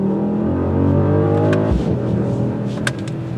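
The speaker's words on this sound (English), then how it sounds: "We're gonna give this bi-turbo a little bit of gas" A 2021 Mercedes-AMG GLS 63 bi-turbo SUV engine revs up hard and pulls through rising gears, loud and close, with a sharp shift partway through.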